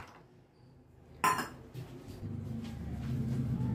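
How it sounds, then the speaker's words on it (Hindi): Large whole cashews are stirred in a pan over a low flame, opening with a sharp metallic clatter of utensil on pan, then settling into scraping and a rising dry rustle. "अब इन्हें लगातार चलाते रहेंगे"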